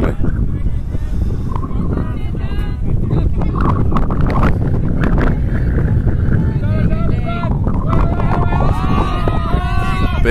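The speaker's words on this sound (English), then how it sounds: "the wind, which is blowing towards this near sideline very strongly" Strong wind buffets the microphone at an outdoor sports field, a constant loud roar throughout, with voices and shouts of players audible underneath.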